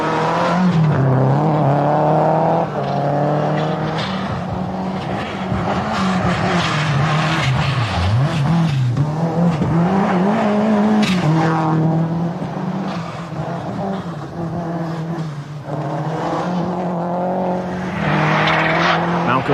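A rear-wheel-drive rally car at the 1990 British Open Rally Championship scrabbles for grip. The engine revs hard and rises and falls while the tyres slip, loud and close for the whole stretch.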